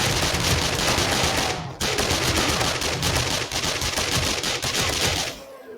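Rapid automatic gunfire from a gun in a video game, a dense sustained burst that breaks once briefly and then continues before cutting off near the end.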